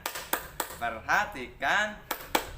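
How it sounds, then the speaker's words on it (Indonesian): A classroom clapping routine gives several sharp, close claps in a rhythmic pattern, with a teacher's voice speaking between the claps. "yuk teman-teman kita tepuk fokus terlebih dahulu"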